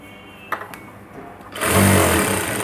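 A sewing machine stitching a blouse starts up after a few faint clicks, then runs as a loud, steady mechanical whir close by for over a second.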